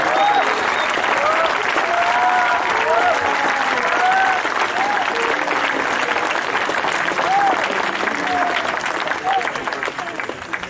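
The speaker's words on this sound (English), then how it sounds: "So with a last round of applause" A large crowd at a school cycling event, Tour De Sanawar, applauds loudly and continuously for the whole occasion, with dense clapping and occasional whistles or cheers rising above it.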